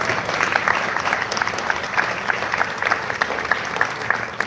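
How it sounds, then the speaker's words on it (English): An audience applauds the Xcaret team, steady clapping from many hands filling the room at an even level, with scattered sharper claps standing out. "a huge round of applause to the whole Xcaret team"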